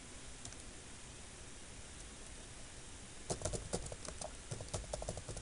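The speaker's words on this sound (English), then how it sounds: "and typing in your preferred name." Keyboard typing while renaming a tile group on the Windows 10 Start screen, a quick burst of light clicks starting partway through over a steady faint background hiss.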